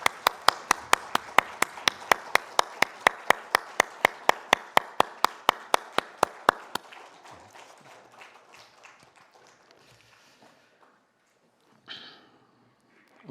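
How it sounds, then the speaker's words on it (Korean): Congregation in a Korean Sunday church service clapping in unison, about thirty sharp, evenly spaced claps in a steady rhythm, then breaking into scattered, fading clapping and quiet room noise. "하나님께 영광의 박수 올려드리겠습니다."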